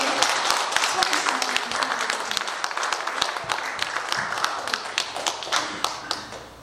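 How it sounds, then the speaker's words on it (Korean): A church congregation claps vigorously before a hymn, sharp dense claps from a large group in a worship hall with a faint rhythmic beat running under it, loud and continuous throughout. "박수 좀 힘차게"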